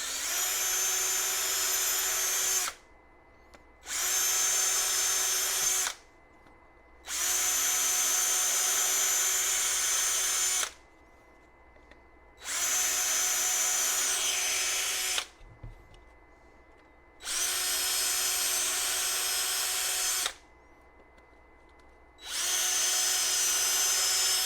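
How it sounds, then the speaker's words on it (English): A power drill whirs loudly in repeated bursts of a few seconds each, separated by short pauses, close by with no talking. "So let's go ahead and drill those out."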